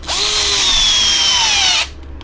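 A power drill drives screws into an RC car skid plate during an HB Racing E819RS rear-end build, one loud steady whirring burst of about two seconds that stops abruptly.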